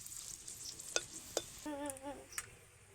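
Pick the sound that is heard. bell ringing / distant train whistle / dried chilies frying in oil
dried chilies frying in oil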